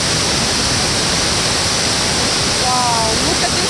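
Roaring waterfall beside ice, a steady broadband rush of falling water that fills the whole clip, loud and close, with a brief faint tonal sound near the end.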